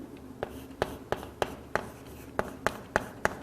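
Teacher writing on a board during a Class 11 biology lecture: a steady series of about ten sharp, evenly spaced taps and strokes, close and fairly loud against a quiet room, with no voice.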